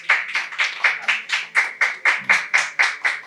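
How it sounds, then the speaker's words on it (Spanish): Steady rhythmic clapping, about four claps per second, fills the moment as an audience applauds the guests of a Spanish-language rock show; the claps are close, even and sustained with no voices over them. "Un aplauso para estos señores"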